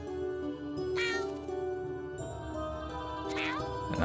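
Cartoonish cat meows from the video game YIIK: A Post Modern RPG, two or three short calls rising over a steady bed of game music, with a final meow near the end.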